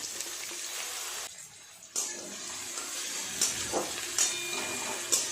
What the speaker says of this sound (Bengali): তেল গরম হয়ে গেছে, দিয়ে দেব কেটে রাখা পেঁয়াজ।